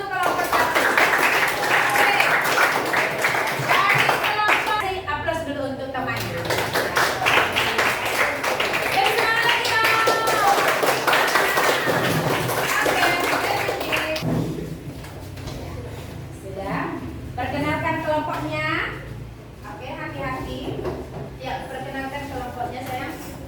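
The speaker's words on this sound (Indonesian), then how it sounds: "tepuk tangan dulu" Students applaud group 1 after their presentation in a German class. The clapping is steady and mixed with lively chatter, and it thins out and fades toward the end as talking carries on.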